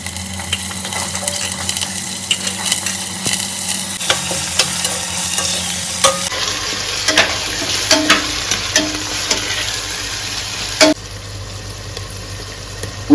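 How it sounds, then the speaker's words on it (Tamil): Chopped vegetables for a veg biryani sauté in a pan, with a steady sizzle and frequent close scraping and clinking as a spoon stirs them, continuing alone without talking. "இப்போ நம்ம கட் பண்ணி வச்சிருந்த காய்கறி மொத்தமாக சேர்த்துக்கலாங்க."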